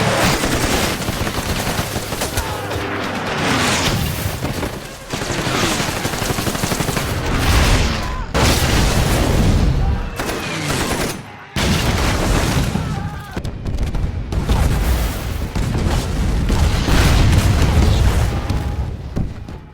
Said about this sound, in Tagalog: binomba ang kanilang lugar nang walang habas na putok at bomba